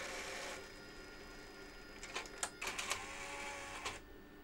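A Sony DVCAM DSR60P professional video deck ejects a tape: a faint mechanical whir of the transport, then several small clicks and clunks as the cassette mechanism moves, with no talking.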